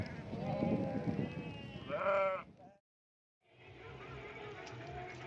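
A flock of sheep, driven out of open grassland during rain, bleats loudly and close for a couple of seconds. After a short silence comes a steady wet rustle with scattered fainter bleats.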